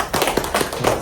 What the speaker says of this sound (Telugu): సూపర్, క్లాప్స్ అండి.